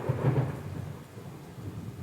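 Thunder rumbles low and heavy through a steady rainstorm, a deep roll swelling early and then settling into a continuous wash of falling rain, with no voices.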